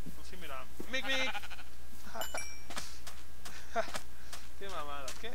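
Sheep in Minecraft give several bleats, each a wavering, nasal call. The bleats come one after another and sound close and clear, with a voice talking excitedly between and over them.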